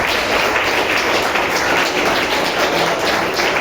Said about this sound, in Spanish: Apláudele a Él, que sea para Él.